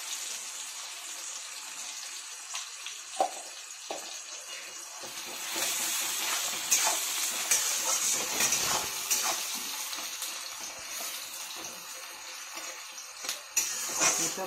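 Chopped tomato with a pinch of salt fries in a pan, a steady close sizzle broken by the scrape and clatter of stirring, with no talking.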